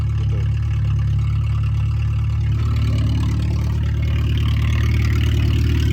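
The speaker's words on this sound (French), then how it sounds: "Voilà les gars, elle démarre au quart de tour." A Citroën Saxo engine, bought cheap and revived, idles steadily with a low, even rumble that holds close and loud throughout, with no voices.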